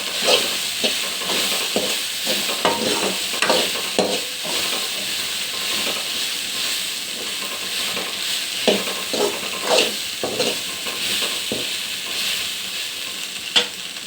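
Egg frying with angone greens for a Karnataka-style palya in a pan, a continuous close sizzle broken by repeated scraping stir strokes throughout, no voices.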